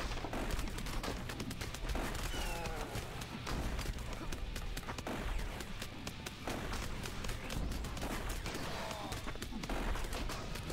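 A gun turret fires repeatedly in the Earn to Die Rogue game, a dense stream of sharp shots that runs the whole time under steady engine and game noise.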